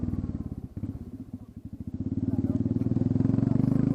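A Royal Enfield Classic 350 idles with its exhaust tip removed, giving a close, loud, steady thumping single-cylinder pulse that quickens and grows fuller after a couple of seconds as the throttle is blipped.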